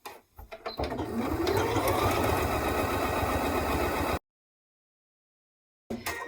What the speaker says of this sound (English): I'm going to run 2 rows of stitching across the top there to fashion my slip pocket